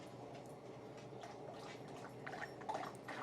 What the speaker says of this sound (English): You'll have to excuse my dog. She is having a drink at the moment.